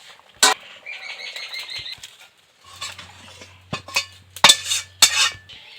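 A pot of dal cooked with ash gourd comes off a kitchen stove in a few sharp metallic clanks and scrapes, with scattered clinks of utensils between short quiet gaps.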